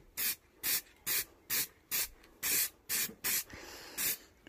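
Lacquer sprays onto a Raleigh Burner bicycle during its restoration: about ten short, loud, evenly spaced bursts of aerosol hiss, each lasting a fraction of a second, with brief pauses in between.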